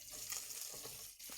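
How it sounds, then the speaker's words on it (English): Fat sizzles steadily in a hot pan with a broad crackling hiss, close and fairly loud, holding level for about a second before briefly dipping and returning. "Oh, that fat sizzling."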